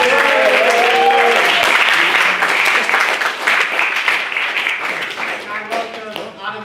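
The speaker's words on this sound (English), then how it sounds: "Can we get another round of applause for a maiden speaker?" Audience applause for a maiden speaker at a formal debate, loud continuous clapping from a crowd that gradually thins and softens toward the end, with a voice speaking over the start.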